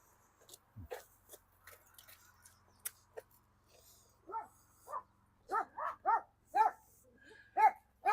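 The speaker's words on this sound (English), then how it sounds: "Or behind the fence, there's a little dog." Small dog behind a fence on a residential street barks in a series of sharp yaps that grow louder and more frequent toward the end, heard from a short distance outdoors.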